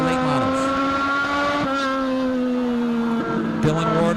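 NASCAR late model race cars howl around Meridian Speedway in Southwest Idaho, engine tones holding steady and loud, then shifting pitch as cars pass, with a continuous roar of several engines throughout.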